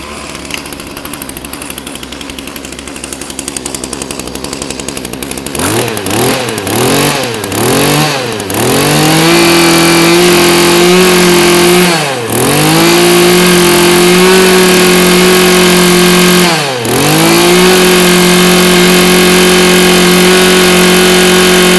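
Several quick pull-start attempts sputter before a small Mitsubishi TBE27 brush cutter engine catches and runs with a loud, steady buzz, dipping briefly twice before recovering.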